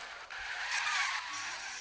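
Tires skid on a car in the Driving School 2016 driving game, a sustained loud hiss-like screech lasting well over a second, steady with slight swells, alone without talk.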